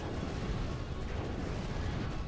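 A sustained, dense roar of explosions in Drakengard, a loud rumbling wall of blasts with no clear gaps and no talk.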